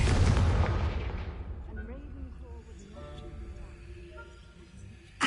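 A Confringo blasting spell cast in the game Hogwarts Legacy, heard as a loud booming burst that fades over about a second and a half, followed by faint tinkling magical tones and a sharp pop at the end.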